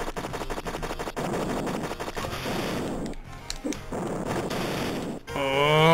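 Rapid, sustained gunfire from a pirate-themed video game rattles on for several seconds, dense and loud, briefly dropping out before a tonal game sound closes the burst.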